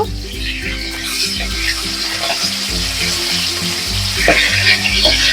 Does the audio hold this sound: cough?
no